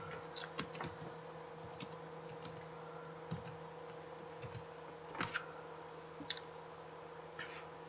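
Typing on a computer keyboard: faint, irregular clusters of light key clicks spread across the clip over a steady low hum, with no one talking.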